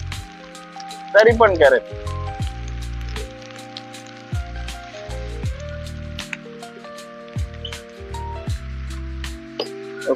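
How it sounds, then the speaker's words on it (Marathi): Heavy monsoon rain patters steadily around a rider on a night ride, with scattered drops striking close by and someone talking over the top for most of the stretch. "खूपच पाऊस आहे"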